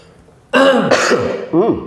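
Two or three harsh throat-clearing coughs from a person with a days-long cough burst out close to the microphone in quick succession, with no talking.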